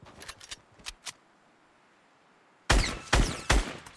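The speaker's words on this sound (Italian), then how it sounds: "Oh, uno sparo sulla tua sinistra." Scattered faint gunshots early on, then three loud, sharp Fortnite gunshots in quick succession near the end.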